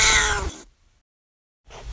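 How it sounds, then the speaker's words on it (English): A cat stuck up in a tree meows once, a loud, close, drawn-out cry lasting about half a second, followed by near silence and then a faint rustle. "My dear cat Snuffles climbed to hide in a tree and can't get down"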